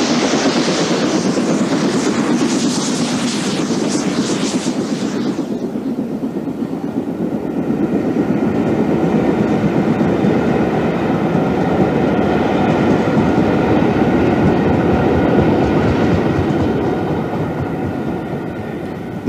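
An LMS Princess steam locomotive hauls a North West Coast Express train along a British Rail main line towards Crewe, a loud continuous rolling rumble with clickety-clack wheel rhythm, hissy at first, then steady and heavy as it passes close.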